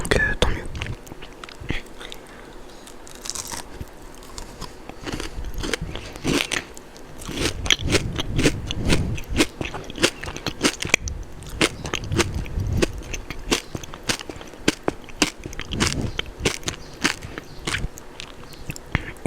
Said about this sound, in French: c'est dégustation hyper croustillante hein, comparé aux dégustations de poissons de la dernière vidéo